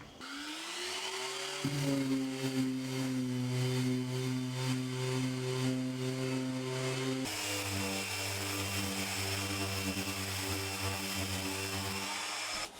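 Power sander running continuously on a wooden workbench top, a loud close motor whine that spins up in the first second and holds steady, its pitch dropping slightly partway through as load changes.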